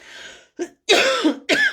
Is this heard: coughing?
yes